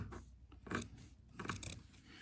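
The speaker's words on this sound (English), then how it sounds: "with a pair of scissors or a rotary cutter, I can cut along the line and get really close to the edge" Scissors snip through quilted fabric along a stitched line, giving two or three crisp close cutting strokes with soft rustling between them and no talking.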